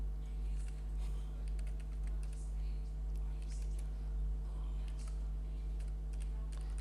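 Faint, quick clicks of typing on a computer keyboard while editing an ID card in Microsoft Word, heard as scattered soft ticks over a steady low electrical hum.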